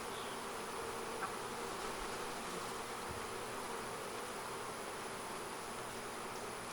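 Honey bees buzz steadily in an open hive while frames are handled during a split, a dense, continuous drone filling the space close to the listener with no talking.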